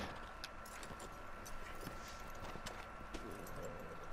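Faint, steady clip-clop of horse hooves in a video game under a dense wash of background noise, with no talking.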